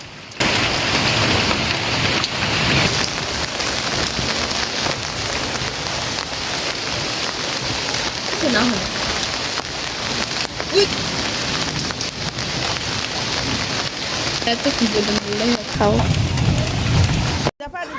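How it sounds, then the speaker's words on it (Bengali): Light rain falls steadily outdoors at a village home near Dhaka, a soft, even hiss that runs the whole time with faint voices and household sounds underneath. "আম্মা বাড়িতে আসার সাথে সাথেই নামছে বৃষ্টি, হালকা হালকা বৃষ্টি।"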